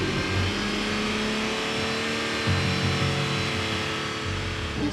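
A car engine roars loudly at high, steady revs, close up, with slight rises and dips in pitch and no voices.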